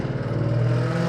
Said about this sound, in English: people should not be allowed to have those loud cars